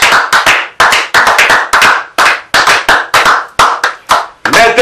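A congregation claps loudly in unison during a prayer gathering, producing sharp, evenly spaced group claps in quick bursts with brief pauses, ending with a hint of voices.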